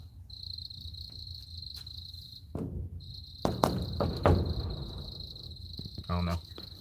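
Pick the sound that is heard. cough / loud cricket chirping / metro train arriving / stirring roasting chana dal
loud cricket chirping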